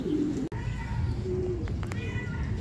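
Racing pigeons coming in during club training in Cabanatuan, Nueva Ecija: steady outdoor bird calls and cooing over a low, constant rumble of background noise, faint and fairly distant.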